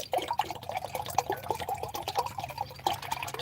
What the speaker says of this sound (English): Slowest pouring cup of coffee in the mirror